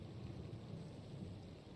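Steady, dense rain pours down in a small town in the game Three Flowers, a continuous broadband hiss with a low rumbling undertone and no voices.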